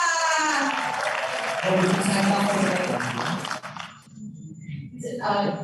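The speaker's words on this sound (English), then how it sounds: "Please give the biggest round of applause" Audience applause at an international democracy and national resilience conference, a loud burst of clapping that runs for several seconds before thinning and briefly swelling again near the end.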